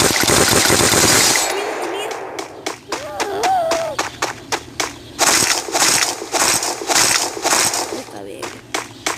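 Rapid gunfire bursts in a video game, loud and sharp, repeating through the clip with game effects, under and between excited talk.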